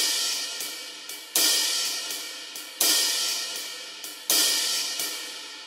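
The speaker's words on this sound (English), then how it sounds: "tip of the cymbal, tip of the stick on the cymbal, shoulder of the stick on the cymbal for accents" Roland V-Drums electronic cymbal played with the stick tip and the shoulder for accents, a steady pattern of light ticks with louder accented hits about every second and a half, no voices.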